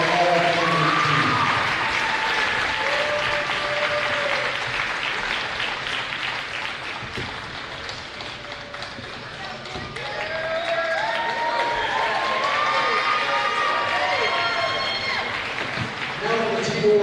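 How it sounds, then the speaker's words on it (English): Applause for the Chicago All-Tournament team at a boys basketball championship, a steady crowd clapping that swells again in the second half, with cheering voices and a tone running beneath it. "Let's have one more big round of applause for the Chicago All-Tournament team."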